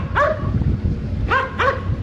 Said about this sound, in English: German Shepherd dogs.